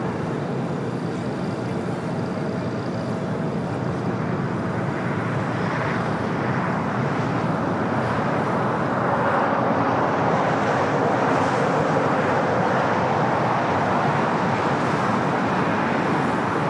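A United Airlines Boeing 737-800 takes off from LAX on a departure to Columbus, Ohio. A steady, broad engine roar holds throughout and swells somewhat louder toward the end, carried along with wind and distant traffic noise.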